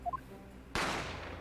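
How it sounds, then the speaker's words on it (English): A single sharp gunshot effect from the video game The Great Ace Attorney cracks once after a few short electronic blips, then rings out in a fading, noisy tail. "I didn't have time to think about where the sound of the gunshot came from."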